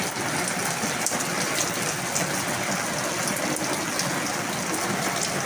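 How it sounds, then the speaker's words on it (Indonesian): Heavy midday rain falls in Jakarta just outside a front doorway, a dense, steady hiss of downpour on surfaces with occasional louder drips, constant and close throughout. "Hari Minggu siang Jakarta hujan. Hujannya lumayan deras ya."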